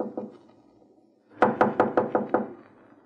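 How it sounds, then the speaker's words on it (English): A hand raps on a door in an old radio detective drama: one or two soft taps, then a pause, then six firm, evenly spaced knocks, close and loud against a quiet room. "Now knock."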